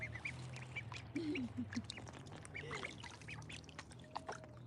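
A few farmyard ducks quack in short, scattered calls over a steady low background hum, fairly close but not loud, with no talking.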